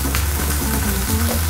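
Half a chicken breast sizzling in olive oil in a frying pan, a steady, close crackle with soft spattering and no talking.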